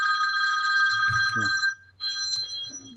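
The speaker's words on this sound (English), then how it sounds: "That's my wife getting a phone call." An indoor telephone rings for an incoming call, a steady electronic trill that stops briefly and then starts again, with a voice heard under it.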